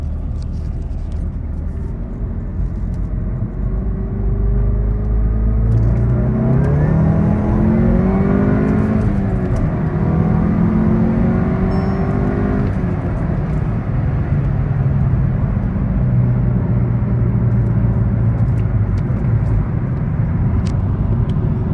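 A modified VW MK7.5 GTI with an IS38 turbo cruises at highway speed, heard from inside as a loud, steady low engine drone and road roar, with the pitch rising and shifting partway through.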